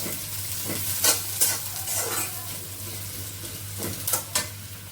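Potatoes and lentils fry in hot oil in a pan, a steady sizzle with several sharp scrapes and clinks of a spoon stirring at intervals, close and alone.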